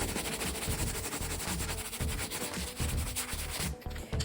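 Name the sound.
sanding rough edges of an old rustic dresser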